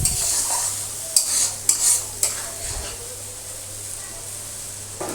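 Ground spice paste, hand-pounded on a stone grinder, frying in oil in a pan for a Bengali tarka, giving a steady soft sizzle with a few sharp stirring scrapes and clinks near the start.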